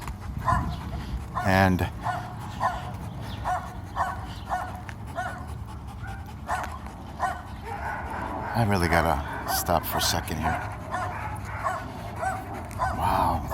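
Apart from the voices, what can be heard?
guard dogs barking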